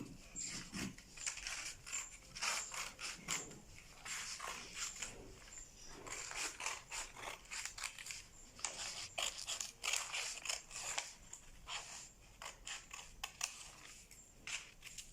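Scissors cut through fabric along a front armhole, a quick series of crisp snipping and crunching strokes repeating close by in an uneven rhythm, with no talk.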